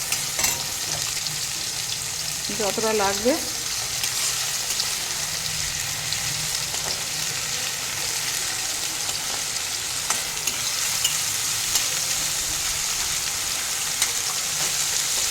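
Fish sizzles steadily in hot oil, a dense crackling hiss filling the whole stretch with a brief whistling tone early on and no voices over it.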